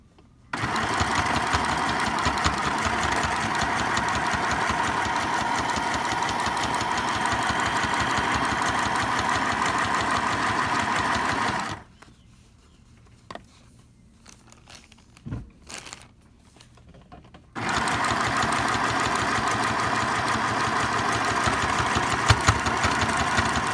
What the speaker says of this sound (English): press your foot down, and do the same thing, just straight stitch from top to bottom